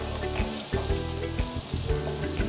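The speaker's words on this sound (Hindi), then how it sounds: "प्याज को हम हल्का ब्राउन होने तक भूनेंगे" Finely chopped onion frying in smoking-hot oil with crackled cumin for dal palak, a bright, continuous close sizzle over a steady rhythmic tonal background that pulses throughout.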